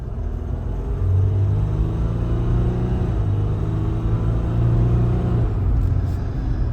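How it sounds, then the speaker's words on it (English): A 2022 Jeep Wrangler Sport S with a turbo diesel engine accelerates, giving a loud, steady low rumble from inside the cabin, with the engine pitch rising as it gains speed and a shift partway through. "now, I'm gonna give you some acceleration and give you my driving impression."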